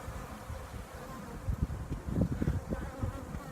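Honey bees buzz in a dense, continuous drone around an opened hive, close and fairly loud, swelling briefly in the middle.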